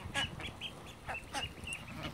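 Ducks quacking nearby among ducklings and chicks, in several short, fairly faint calls over a soft background.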